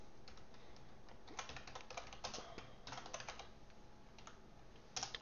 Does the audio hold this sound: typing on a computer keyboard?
yes